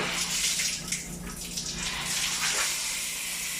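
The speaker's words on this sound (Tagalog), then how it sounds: "Check natin yung shower." Shower running in a hotel room, a steady close hiss of spraying water that holds constant throughout with no talk.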